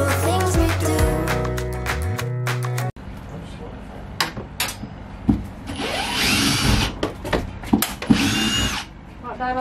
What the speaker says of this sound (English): Unscrew and go.